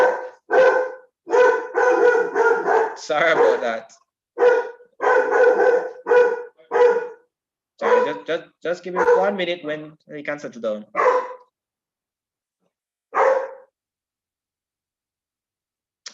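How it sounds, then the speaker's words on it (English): A dog barks repeatedly indoors, with bursts of loud close barking that come and go, interleaved with a person speaking apologetically over and between the barks. "Just kind of kindly ask if you could just ignore the dog."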